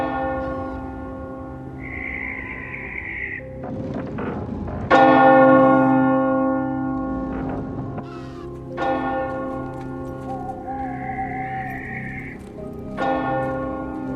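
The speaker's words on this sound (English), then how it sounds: "I don't want to go bell ringing." Church bells ring out in a slow, resonant sequence, each strike leaving a long humming decay, with occasional higher tones drifting in between.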